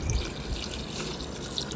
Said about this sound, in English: now I am ready to pour the juice of the kiwi and cucumber